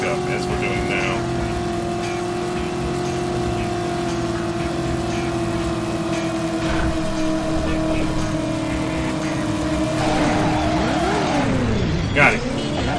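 A car in the Driver video game drives at speed with a steady droning engine that pitches up as it accelerates, with sweeping tonal effects near the end; no talk breaks through.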